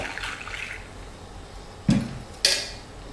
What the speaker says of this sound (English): Stir to make sure it is cold.